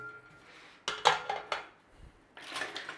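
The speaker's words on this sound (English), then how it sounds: "Okay, let's get this pan on." A metal pan clanks onto a kitchen stovetop, with a few sharp clinks and scrapes close by, followed by a softer rattle.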